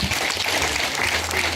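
A crowd gives a burst of steady, dense applause for a woman who has just been seated in a chair of honor, the clapping close, loud and even throughout.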